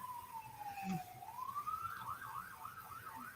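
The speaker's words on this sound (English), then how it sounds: "And so many sirens outside." A faint siren drifts in from a distance, gliding up slowly and then warbling rapidly, under a steady hiss of background noise.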